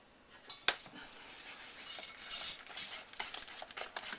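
Chunky corn pancake batter being stirred vigorously in a bowl with melted butter, producing a steady wet scraping and occasional clinks of the utensil against the side, close and fairly quiet, with no talking.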